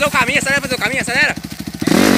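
A Honda CRF 230 dirt bike accelerates on a trail with a rapid, pulsing engine rasp that climbs, close and loud, as a voice calls out over it.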